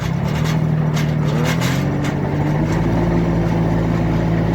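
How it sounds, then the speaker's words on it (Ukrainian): A 2023 tractor driving a rotary tiller, its engine droning steadily close by and rising gently in pitch as the revs are brought up, with a mechanical rumble underneath. "Така фреза. Зараз дамо трошки її обертів."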